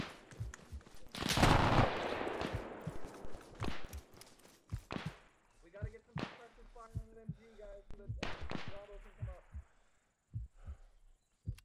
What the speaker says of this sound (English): Machine gun on the left. Yeah, I think it's shooting at the other team.